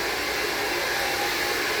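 Handheld hair dryer blowing steady heated air over bobbed hair, a constant, close, loud whooshing roar with no break and no voices.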